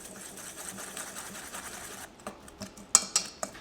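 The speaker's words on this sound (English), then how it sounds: "Go ahead and mix these dry ingredients together and whisk out any clumps that you see." Powdered sweetener and salt are whisked together in a bowl for no-bake keto pecan pie bars. A rapid, even scraping rhythm gives way to a few separate, sharper taps and clinks against the bowl.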